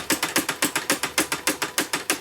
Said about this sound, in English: But eventually, it developed a slight knock.